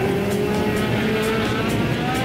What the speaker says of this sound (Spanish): Este es el momento en que regresaban los autos a la pista, ahora con llantas para lluvia.